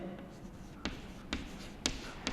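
A pen taps and scratches across paper in a few quick, faint, evenly spaced strokes while recording accounting journal entries, with quiet room noise behind.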